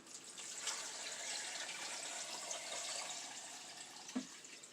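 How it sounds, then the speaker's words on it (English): Tap water pours steadily into a 6-quart pot holding a whole chicken for broth, a soft continuous hiss and splash heard alone at low volume, with a small knock near the end. "We're going to fill her with water."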